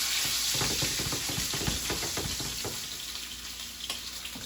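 Big pork chops frying in a pan, a steady close sizzle with crackles and occasional utensil clicks, no one speaking.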